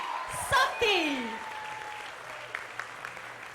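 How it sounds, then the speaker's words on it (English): Audience applause breaks out before a staged play about Sati by Bhakti Marg Swami, a brief burst of clapping and cheering that quickly fades into a quieter room with scattered sounds. "won't you give a big round of applause to His Holiness Bhakti Mark Swami and his play Sati"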